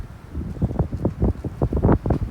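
Blustery wind buffets the microphone outdoors on a warm February evening in New Jersey, coming in close, uneven gusts that rise and fall rapidly in loudness.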